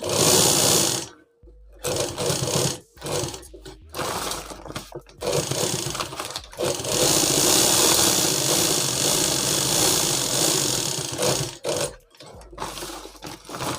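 A sewing machine stitches a bag made from a sack, its motor whirring in loud bursts of rapid stitching broken by short pauses and quiet gaps, heard close with no talk.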